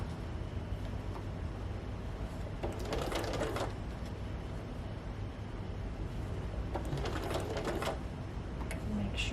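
Sewing machine stitching a rolled hem in fabric, a steady mechanical whirring run with brief bursts of faster stitching, close and alone.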